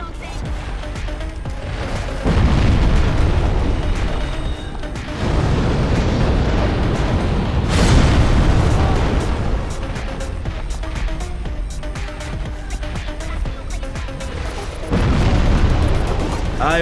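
Repeated explosions from a demon boss in Dark Souls: several loud, rumbling blasts and booms follow one another over the game's ongoing noise, with heavy bursts at intervals.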